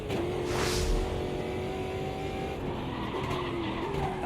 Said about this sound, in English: In the Corolla Stock Car